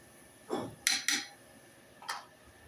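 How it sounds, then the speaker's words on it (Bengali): Spoon scraping and knocking in a cooking pot while rohu fish curry with chicken keema, ridge gourd, salt, garam masala and cumin powder is stirred: four short clatters, close and moderately loud, with no talk. "ভালো করে নেড়ে চেড়ে দিব।"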